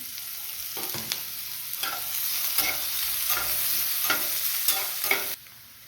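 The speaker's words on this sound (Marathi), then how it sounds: "त्याच पॅनमध्ये ज्याच्यात आपण भेंडी फ्राय केली, त्याच्यामध्ये एक मीडियम आकाराचा कांदा एकदम बारीक चॉप केलेला" Finely chopped medium onion frying over high heat in the same pan used for okra, a steady close sizzle broken by repeated scraping stirs of a spatula, with no voices.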